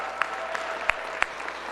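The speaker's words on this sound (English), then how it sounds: "Give them a big round of applause." An audience at a city school attendance campaign event applauds community partners, a steady diffuse clapping wash with a few sharper individual claps standing out.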